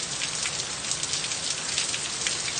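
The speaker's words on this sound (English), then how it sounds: "it's raining really hard, wind blowing really hard" Heavy rain falls during a severe thunderstorm with hail and tornado warnings and strong wind, a dense and steady hiss of drops pounding surfaces throughout, loud and close with no voices.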